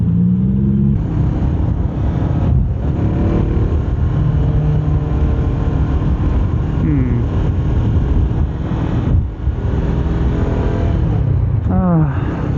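A Honda CBR 500R motorcycle idles and rumbles steadily in road traffic, with passing car noise around it and occasional revs rising and falling.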